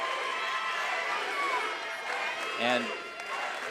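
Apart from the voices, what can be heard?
basketball crowd cheering at girls' championship game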